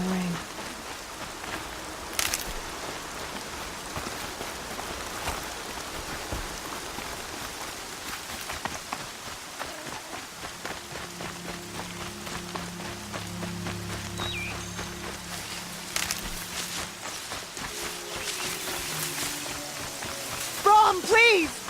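Steady rain patters across a wild landscape in Horizon Zero Dawn, a soft continuous wash under occasional footsteps, low rumbles and brief game sounds, with a voice calling out near the end.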